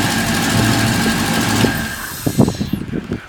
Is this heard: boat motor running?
yes